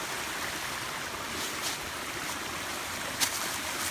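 Steady broadband rush of a waterfall pouring over red rock, continuous and fairly close, with a few brief splashy bursts standing out from the constant roar.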